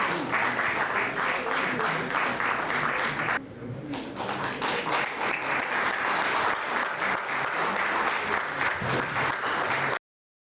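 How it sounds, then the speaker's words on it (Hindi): Sustained loud applause from a large crowd welcoming a students' organisation at a farewell event at CTI Ranchi, dense steady clapping with a brief dip partway through. "जोरदार तालियों के साथ सभी विद्यार्थियों के संगठन की का स्वागत करें।"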